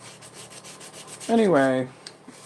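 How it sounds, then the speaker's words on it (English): Steady abrasive rubbing of hand sanding, a soft scratchy wash running throughout, with a brief spoken word partway through. "So I'm sanding this"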